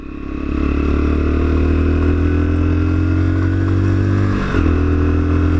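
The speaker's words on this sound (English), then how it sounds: "nice little commuter bike this. With its supermoto sort of styling, its trial bike styling." The engine of a Lexmoto Assault commuter motorcycle with supermoto styling runs loud and close at a steady low drone, with a slight rev change near the end.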